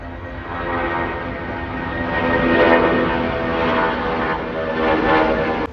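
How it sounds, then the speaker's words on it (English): A Boeing 777 freighter taxiing on an elevated taxiway at Delhi Airport, a steady droning engine whine with a tonal hum that swells and eases slightly, heard from a moderate distance. "this is the real view, the 777 freighter on the elevated taxiway"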